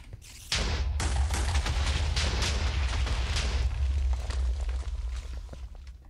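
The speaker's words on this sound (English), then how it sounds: "I now understand what that explosion was." A sudden loud explosion in modded Minecraft (All The Mods 6) hits after a moment of quiet. It becomes a sustained roaring rumble with crackling debris bursts and then slowly fades toward the end.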